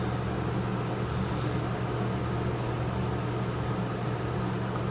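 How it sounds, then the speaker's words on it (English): An air conditioner hums steadily indoors, a constant broadband whir with a low drone that stays unchanged and alone for the whole stretch. "If you can hear the noise in the background, that's my AC."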